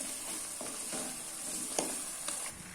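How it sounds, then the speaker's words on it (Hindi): Mutton karahi stirred and fried over medium heat in a pot, a steady bright sizzle broken by a few sharp scrapes and clinks of the spoon against the pan, with no talking. "अब हम इसको दरमियानी आंच पे ना भून लेते हैं।"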